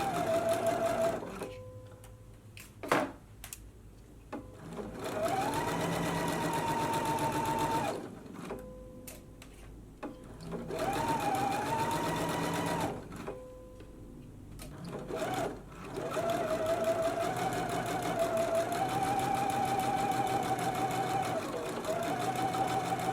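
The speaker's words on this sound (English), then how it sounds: "now we can go to the sewing machine and we can stitch at a 5/8 of an inch seam allowance" A sewing machine stitches the side seams of a simple summer dress at a 5/8-inch seam allowance, running in steady bursts with short pauses between them, close and clear.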